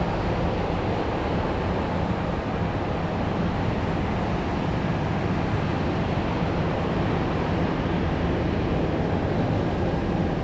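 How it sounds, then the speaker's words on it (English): A Delta airliner taxis at Raleigh-Durham airport, its engines a steady, loud broadband roar that holds unchanged throughout with no voices. "And another Delta taxiing out right behind these two."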